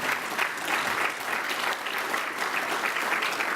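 A conference audience at an economic forecast event applauds, a steady wash of clapping from many hands that holds evenly at moderate level throughout, with no talking.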